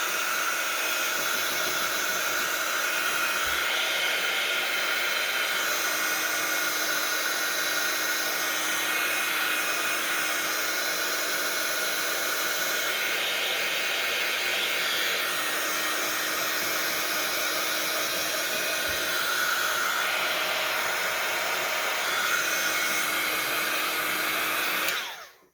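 A hair dryer blows steadily and loudly at close range for about twenty-five seconds to dry a mixed media junk journal page, with a constant rushing hum that cuts off at the end.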